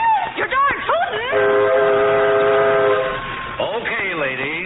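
A steam train's whistle in an old-time radio drama sounds one long, steady, loud chord that holds for about two seconds between stretches of a voice.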